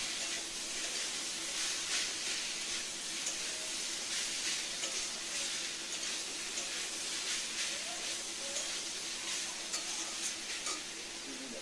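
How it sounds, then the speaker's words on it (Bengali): Banana stem (thor) sautéing in a hot pan: a steady, close sizzle and hiss of frying that runs unbroken throughout, with faint stirring and no talking. "থোরটা দিয়ে আমি এবার কষাবো।"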